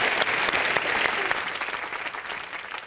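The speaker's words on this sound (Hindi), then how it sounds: "जोरदार तालियां।" Loud studio audience applause on a Hindi comedy talk show, dense steady clapping filling the whole moment and easing slightly toward the end.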